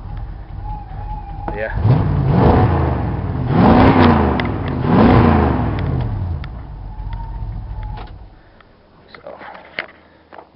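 A Dodge D150 pickup's engine fires up and is revved in three rising-and-falling swells before settling to a quieter idle, heard close and loud with a brief spoken remark.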